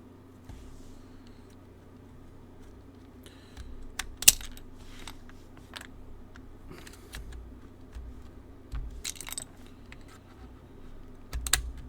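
Plastic keycaps being pulled off an Aeroboard70 mechanical keyboard with Wuche 1U and 3U keycap pullers, giving scattered sharp clicks and clacks over about twelve seconds at close range, with no talking.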